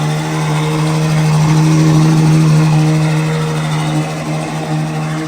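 A powerful tuned Ferrari engine rumbles loudly at a high, steady cold-start idle, droning close by for several seconds before settling slightly.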